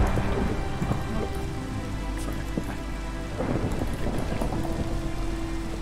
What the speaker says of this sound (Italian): Piove, ottimo, va bene. Non mi piace la pioggia